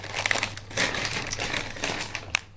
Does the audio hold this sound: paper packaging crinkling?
yes